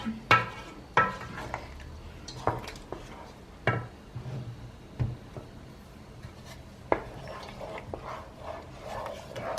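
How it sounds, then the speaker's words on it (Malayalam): Strawberry jam being stirred in a pan as it cooks down, with scattered scraping and clinking knocks of a utensil against the pan over a low bubbling background, close and moderately loud, no talk. "ഇനി ഇത് നല്ലപോലെ ഇളക്കി കൊടുക്കാം."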